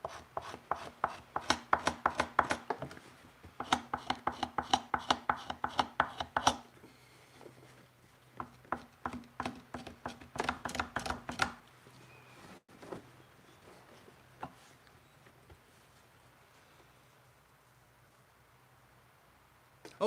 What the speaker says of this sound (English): Right now we're scraping a rather large buckskin.